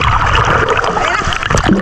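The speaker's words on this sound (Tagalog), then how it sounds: "Maganda yung mahampas yung alon sa mga pagmumukha." Sea waves at Boracay splash against swimmers' faces, close, loud wet slaps and churning water, with bursts of splatter all through the short moment.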